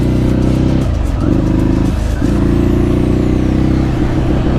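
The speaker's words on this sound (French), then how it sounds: "c'est parti pour le petit essai routier du Scrambler 800" A Ducati Scrambler 800 motorcycle engine on a road test drones loud and close, revving and pulling in rhythmic surges with two brief dips between gears, steady throughout with no talking.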